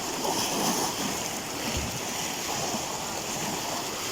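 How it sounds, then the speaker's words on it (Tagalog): Strong waves on Taal Lake at high tide, near Alitagtag, Batangas, wash in a steady, loud surge with windy rumble and a low thump partway through. "Lakas ng alon. Maalon ngayon."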